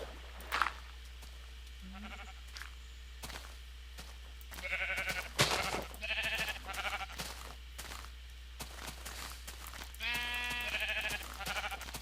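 Sheep in a Minecraft-style farming game bleat several times in short wavering calls, moderately loud over a steady low hum with scattered clicks and footsteps.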